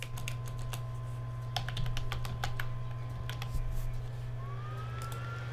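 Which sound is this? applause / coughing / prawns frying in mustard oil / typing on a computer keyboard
typing on a computer keyboard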